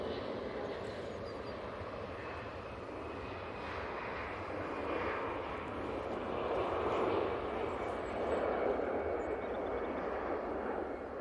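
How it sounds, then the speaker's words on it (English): Easyjet Airbus A320-200 jet taking off from Manchester Airport, bound for Hamburg, its engine rumble fairly distant and moderate, rising gently toward the end as the roll builds. "Easyjet on the roll."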